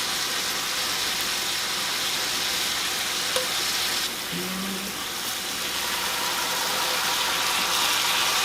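SPAM slices fry in oil in a frying pan with a steady, close, even sizzle that carries on without a break, no voices.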